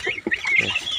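Young turkey poults and chickens cluck in a quick, close burst of short calls at moderate loudness, with no voices.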